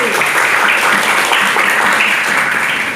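Students in a junior high school classroom clap their hands together after a chanted study song, a dense, loud burst of clapping lasting a few seconds with no talk over it.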